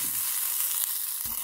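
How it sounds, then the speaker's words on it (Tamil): Green chillies, coconut, garlic and tamarind sauté in a pan with a steady, close hiss of frying and a brief stir or clatter near the end, no voices. "பச்சை மிளகாய் கூட தேங்காயும் பூண்டு போட்டு வதக்குறேங்க"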